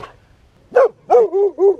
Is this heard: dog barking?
yes